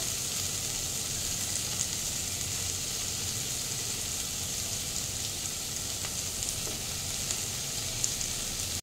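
Prawns frying in oil in a wok for a Bengali wedding-style curry, a steady close sizzle and crackle holding constant throughout with faint occasional pops, no talk.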